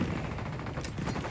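A dense, continuous burst of rapid gunfire in the video game Tom Clancy's Ghost Recon Wildlands: steady crackling shots with no pause, at moderate loudness.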